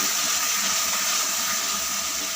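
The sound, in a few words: water being poured into a cooking pot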